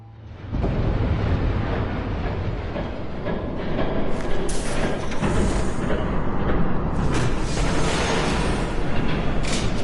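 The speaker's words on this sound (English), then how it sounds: "There's a train coming." A train rushes past in the Batman: The Telltale Series video game, a loud continuous rumble and rattle that swells and stays heavy for about nine seconds with no talk over it.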